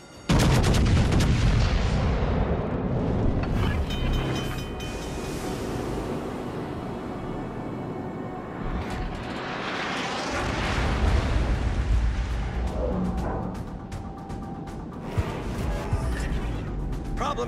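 Heavy guns of the battleship Massachusetts fire in World of Warships Legends. Loud, deep booms roll into a long rumbling wash, with further blasts and crackling impacts layered throughout.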